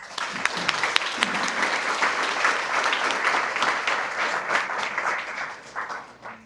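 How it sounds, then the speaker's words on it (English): A crowd at a paramedic graduation ceremony applauds steadily for several seconds, dense clapping that holds even and then starts to thin out toward the end. "Please give them a round of applause."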